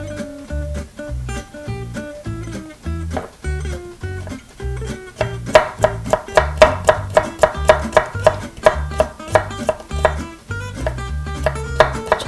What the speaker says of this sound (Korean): 당근도 마찬가지로 채 썰어 주시면 돼요.